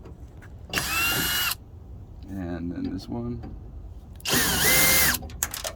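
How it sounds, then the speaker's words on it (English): A power drill fitted with a T25 Torx bit whirs in two loud bursts while backing out screws from a car taillight, with someone talking briefly between them. "I went ahead and put it in my drill, and you just take these out like so"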